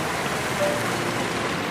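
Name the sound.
waterfall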